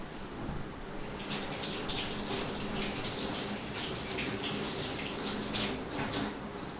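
Water runs steadily from a kitchen tap as food is rinsed for French onion soup, a continuous close splashing rush with no talk.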